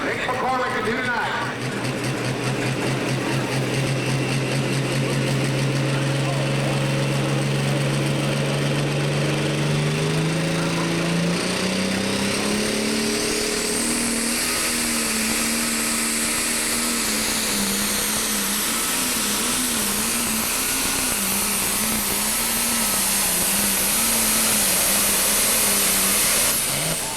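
A pulling tractor in a 10,000 lb class at an outdoor Newton, Illinois pull roars loudly and steadily, its engine pitch climbing as the run builds, with an announcer talking over it throughout.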